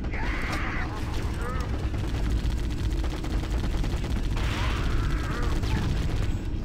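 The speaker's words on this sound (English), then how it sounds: "Gotta love this minigun." Rapid, continuous minigun fire in the Halo CE Digsite mod video game, a dense rattling stream of shots with mechanical whirring and a few brief tonal effects, loud and unbroken, with speech faintly present.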